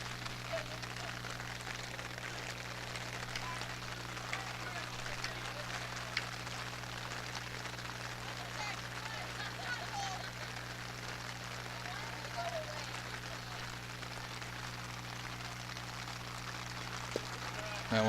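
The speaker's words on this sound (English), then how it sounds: "And here comes some heavy rain." Heavy rain pours steadily over an outdoor boys' varsity baseball game, a dense constant hiss with a low steady hum beneath and faint voices in the background.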